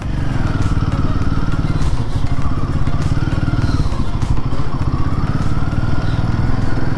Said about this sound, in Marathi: गतिरोधकम स्पीड ब्रेकरम. मी त्याच्यावरून गाडी उडवम.